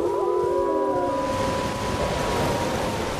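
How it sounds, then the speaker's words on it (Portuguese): Dogs howling in the video game Elden Ring: several long, wavering howls overlapping in a loud chorus that slowly fades into a noisy wash. "Tem cachorro vindo do céu!"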